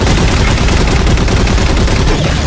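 Cannon fire in a Halo 4 big team slayer match, a dense, loud burst of rapid explosive shots blending into a continuous barrage with no pauses.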